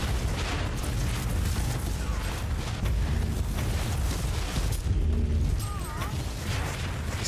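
Game explosions and battle rumble in Warhammer 40K Inquisitor, a steady, dense roar of booms and mechanical noise throughout, with faint tonal game effects and no clear talk.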